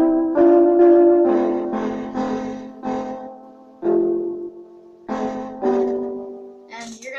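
Piano chords are struck one after another in a slow, steady pattern, each ringing briefly before the next, close and moderately loud, with a short voice at the end.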